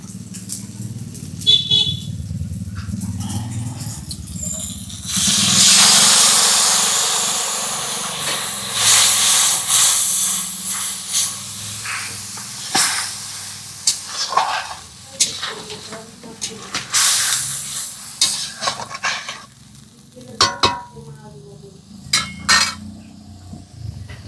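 Mustard paste goes into hot oil already holding turmeric and chili powder and bursts into a loud, sustained sizzle and hiss, with occasional utensil clatter and a voice speaking now and then.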